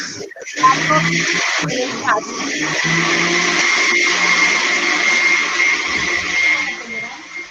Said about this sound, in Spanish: Apaguen la licuadora, por favor.